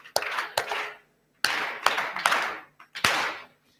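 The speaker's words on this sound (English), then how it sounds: "Let's give him our round of applause." Audience applause at a summit on undocumented foreign nationals, heard as several separate bursts of clapping, each a second or so long and fairly close. Brief silent gaps fall between the bursts.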